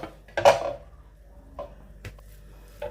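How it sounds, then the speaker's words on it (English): Cooked rice being scooped out of a pan with a plate, giving a few scattered scraping clinks of plate on metal: one louder knock near the start, then fainter taps spaced apart in a quiet kitchen. "I'm going to take the rice out of the pan. To do this is to use a plate instead of using a spoon"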